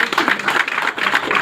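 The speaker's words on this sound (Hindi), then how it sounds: "ताली बजाइए यार।" An audience applauds during a presentation, giving a brief burst of dense, close clapping with uneven rhythm that carries steadily throughout.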